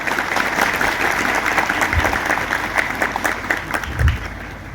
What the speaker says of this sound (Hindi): एक बार जोर से हमारे बिशप स्वामी पुरोहित लोगों के लिए ताली बजा के स्वागत करें